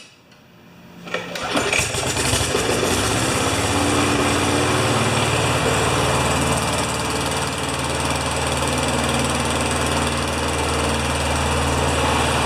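A Yard Pro lawn mower with a Briggs Pulsa Prime engine and a carburetor issue starts up after a primer squirt, catching within about a second and then running at a loud, steady, high-revving drone close by.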